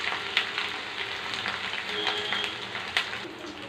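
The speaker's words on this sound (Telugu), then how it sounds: "అల్లం ముద్ద అండి తిప్పుకున్నాము. కొద్దిగా ఏగాలండి, ఏగేదాకా తిప్పుకున్నాము." Ginger paste sizzles and fries in a pan with cumin seeds, a steady hissing crackle broken by a few soft scraping stirs.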